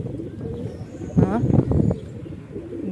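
A pigeon coos in low, throaty bursts close by, over a steady murmur of background noise.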